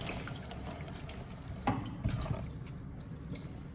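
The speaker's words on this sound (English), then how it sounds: "take the tomatoes out and rinse them under clean water 1 or 2 more times" Tomatoes being rinsed under running tap water, a steady close wash of flowing water with a few soft splashes and drips.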